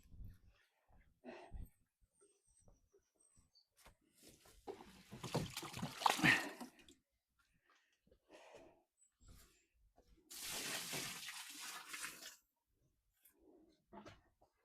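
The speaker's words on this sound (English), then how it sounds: "Just going to empty some water butts off." Garden water butts being emptied out at an allotment, two broad rushing bursts of pouring water, one around the middle and a steadier one later, with quieter splashes and handling noises between.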